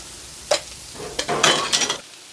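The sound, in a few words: ground beef, onions and potatoes sizzling on griddle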